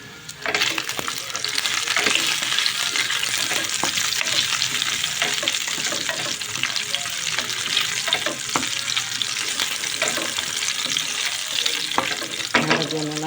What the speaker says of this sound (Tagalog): Gigisa natin sa sibuyas at bawang.